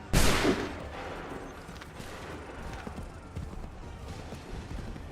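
Musket volley fired in an American Revolution battle: one loud, sharp crack at the start that rolls off into a long decaying rumble, followed by a quieter, noisy battlefield background.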